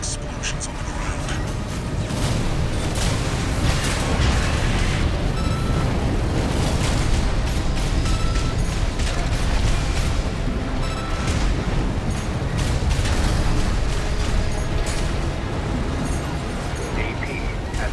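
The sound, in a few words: explosions in video game Armored Core VI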